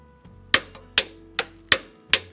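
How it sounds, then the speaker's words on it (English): A torque wrench tightens the brake bolts on a Jeep Wrangler JL fitted with PowerStop Z36 brakes, giving five sharp, close metallic clicks spaced about half a second apart, each with a short ringing decay. "we're actually going to tighten these bolts right here to 74 foot-pounds"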